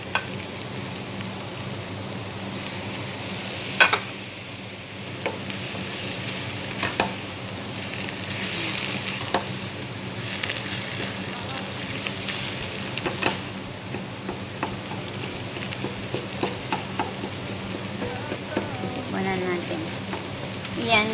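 Food frying in a pan with steady bright sizzling and crackle throughout, occasional stirring clatter, and someone speaking intermittently over it.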